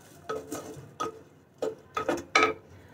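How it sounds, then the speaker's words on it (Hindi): Raw chopped potatoes and whole chickpeas are stirred together in a cooking pot, giving a series of about six separate clinks and scrapes of a spoon against the pot, close and moderately loud. "ये जो हमारे कच्चे आलू मैंने काट के रखे थे और जो छोले जो मैंने पीसे नहीं थे ना वो डाल देती हूँ। मिक्स कर देंगे हम इनको अच्छे से।"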